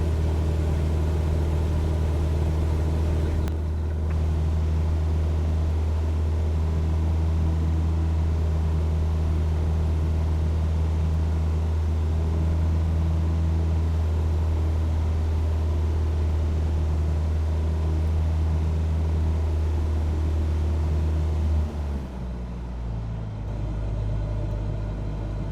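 A steady, loud airplane engine drone hums with little change from start to finish in Microsoft Flight Simulator 2020 during a landing approach, then shifts pitch briefly near the end.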